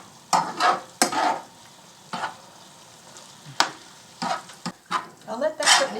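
Grandma's goulash cooking in a pan while being stirred, close scraping strokes in irregular bursts over a soft sizzle, with no talking.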